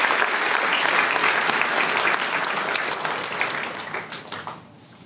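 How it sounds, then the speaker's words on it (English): Warm round of applause from an audience at an institute orientation event, dense clapping held steady for a few seconds before tapering off into scattered claps. "So big round of applause for Mr."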